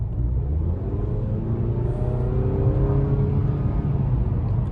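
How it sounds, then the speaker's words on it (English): A steady, low engine drone and road rumble from inside a moving Mazda 3, fairly loud and constant throughout, with no talking. "Engine isn't too loud."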